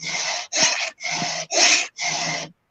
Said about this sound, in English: I'm filing a chainsaw.